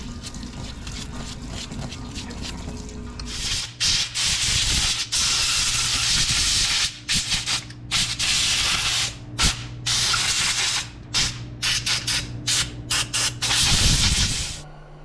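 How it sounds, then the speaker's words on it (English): A 1995 Jiffy model 30 carburetor is rinsed in a parts washer, with loud hissing bursts of spraying liquid that start and stop in uneven pulses, close up and without talk. "we're gonna just run it through the parts washer just to knock some of that large grit and dirt off the outside of it"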